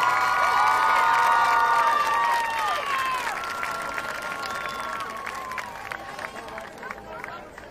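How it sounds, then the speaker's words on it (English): An audience applauds and cheers for a high school marching band at a music performance assessment, loud clapping and shouts from a large crowd with whistles, gradually fading over several seconds. "please give another round of applause for the Baker County Senior High School Wildcat Pride"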